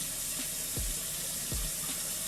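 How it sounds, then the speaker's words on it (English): Running tap water splashes steadily into a sink while a face is rinsed, with a couple of soft, low splashes of water cupped against the skin; no one speaks. "now that I've cleansed the skin, I'm gonna grab some water and rinse"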